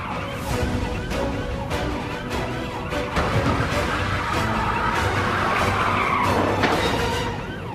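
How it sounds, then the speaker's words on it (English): A police BMW X5 is rammed, skidding and crashing, with loud tire squeal, engine roar and harsh scraping impacts, amid sirens and overlapping noise in a chaotic, close mix. "The police X5 has crashed."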